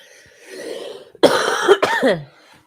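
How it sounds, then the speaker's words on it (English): A person gives a couple of harsh, close coughs in quick succession, preceded by a quiet breathy exhale and trailing off into a brief throaty rasp. "Coughing."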